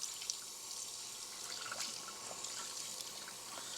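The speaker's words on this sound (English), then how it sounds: "I'll wash my hands" Hands being washed under a running kitchen tap, a steady light trickle and splash of water with small irregular spatters, close and fairly quiet, no talking.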